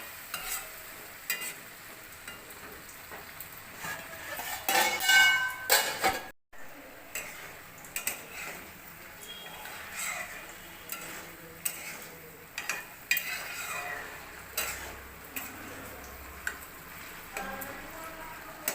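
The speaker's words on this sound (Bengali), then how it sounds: "এবার বেগুনটাকে ভালো করে ঘেঁটে নেব।" Brinjal (eggplant) stirred in a pan with a spatula, scraping and clinking in a busy, irregular rhythm over a steady sizzle, fairly close and moderately loud, with no talk.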